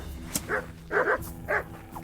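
Dog in the game Kingdom Come Deliverance giving three or four quick close barks and yips in a short burst, loud and clear without speech.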